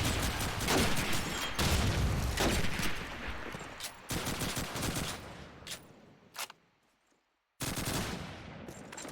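Dense gunfire from a competitive Call of Duty 2 match: loud, close rapid bursts of automatic fire and booming shots, with brief pauses and a moment of near silence before the shooting resumes.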